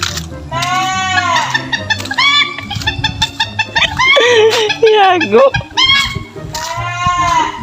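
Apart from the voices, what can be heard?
goat bleating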